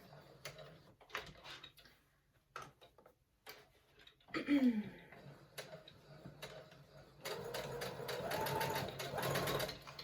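A sewing machine stitches through an elastic fabric face mask in runs of rapid mechanical ticking, with brief pauses and a louder, steadier stretch of stitching near the end.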